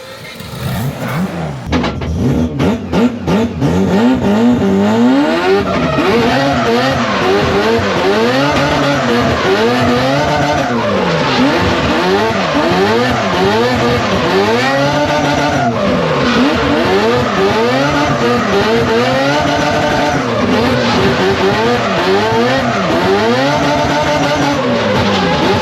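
Four-rotor Toyota Supra engine heard from outside the car, loud and close, revving repeatedly with sharp rising and falling sweeps over a constant rough drone, with no voices.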